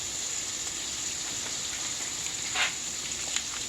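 Mixed vegetables and onions sauté in butter in a pan, a steady close sizzle and crackle with a brief louder spatter partway through.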